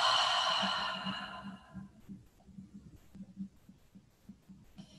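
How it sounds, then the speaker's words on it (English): A long, breathy exhale during restorative yoga breathing, loud at first and fading over about two seconds, followed by quiet soft low rustles. "Deep breath in. Cleansing exhale."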